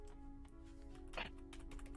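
Quiet clicking of a computer keyboard, a quick run of keystrokes over a low steady electrical hum.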